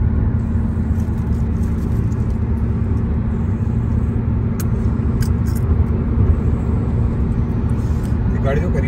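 Car cruising on a highway from Dammam to Riyadh at about 130 km/h, a loud steady road and engine rumble throughout, with someone talking over it.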